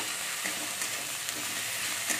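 Ginger and garlic, added to onions already browned, fry in a pan with a steady, soft crackling sizzle and faint stirring ticks, with no talking.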